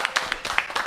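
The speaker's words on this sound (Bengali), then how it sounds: "ভাই খলিল ভাইয়ের জন্য হাততালি হবে একটা" Quick scattered handclaps from a small group applauding guest Khalil bhai, a meat trader, at a Qurbani cow gathering; about half a dozen sharp claps in under a second.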